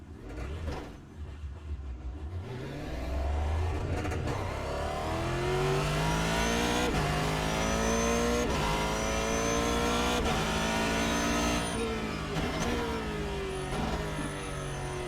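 Ford GT GT3 race car engine in iRacing, a steady loud drone with rising and falling harmonic sweeps as it accelerates and shifts through gears, with no talking.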